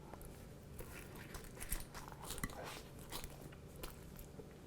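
Crunchy bites and chewing of fried chicken and green chile flautas, the fried tortillas crackling in close, irregular crunches over a few seconds, with no talking.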